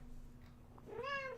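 Cat meowing: one clear, rising-then-falling meow near the end, moderately close, over a quiet low hum of room noise.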